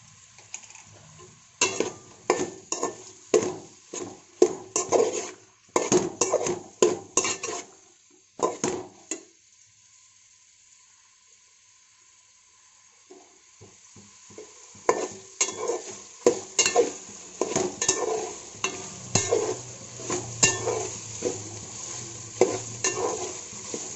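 Mushrooms with a pinch of turmeric frying in a pot for mushroom biryani, with sizzling and a rapid run of scraping spoon strokes against the pot, a quiet pause, then more stirring over the sizzle, close by.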